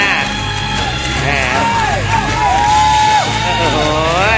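A woman at an off-road driving event cheers loudly, her voice rising and falling in long whooping calls over a steady engine rumble and general crowd noise.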